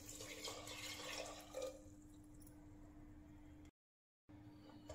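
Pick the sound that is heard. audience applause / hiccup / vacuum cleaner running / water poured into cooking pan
water poured into cooking pan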